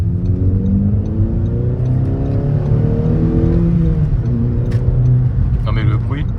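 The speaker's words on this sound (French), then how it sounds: "quand elle monte haut dans les tours, elle gueule beaucoup" A SEAT Leon's engine revs steadily as the car drives, a loud, sustained drone whose pitch climbs and shifts, with a brief higher whir near the end.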